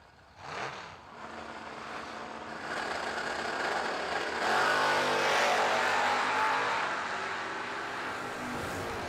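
Drag racing cars launching off the line at a Christmas bracket racing event, one a Mustang lifting into a wheelie, as a steady engine roar builds and holds at a moderate distance without any talking.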